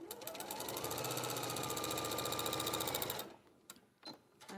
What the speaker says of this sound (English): I'm sewing quite fast, Ben.